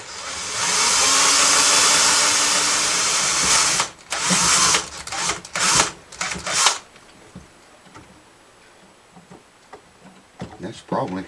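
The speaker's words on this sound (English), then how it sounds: "I don't want to drill into the pickup itself." An electric drill whines loudly and steadily for a few seconds near a Harmony Hollywood guitar pickup, then gives short bursts before quieter sounds and some talking follow.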